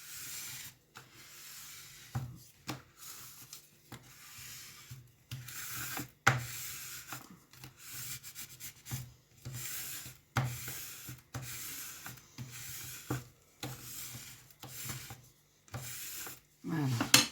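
A ruler rubbed firmly over a handmade Father's Day card, a run of close, rhythmic scraping strokes with pauses, soft and steady throughout.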